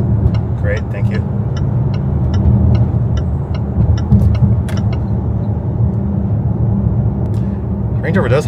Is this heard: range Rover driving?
yes